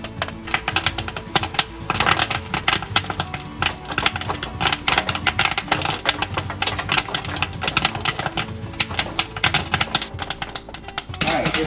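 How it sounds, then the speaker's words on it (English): Chocolate coconut popcorn pops inside a hot popcorn machine, a dense, continuous stream of sharp crackling pops over a steady mechanical hum, fairly loud and close. "Sounds like it came back up to temperature and it's starting to pop again."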